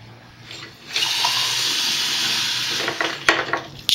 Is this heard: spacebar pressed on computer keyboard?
no